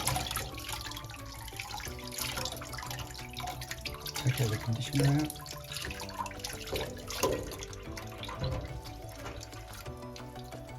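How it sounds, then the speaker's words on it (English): Cold tap water runs into a sink while 1980s Barbie dolls' hair is rinsed of conditioner, a steady splashing wash with brief louder gushes as a voice talks over it. "going to rinse some more cold water now."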